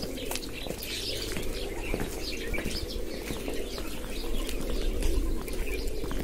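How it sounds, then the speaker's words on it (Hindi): Pigeons coo and flutter their wings in a steady, busy chorus at an open hillside temple in Rajasthan, with scattered chirps over a constant background murmur. "ये देखिए कबूतर कितना शोर कर रहे हैं"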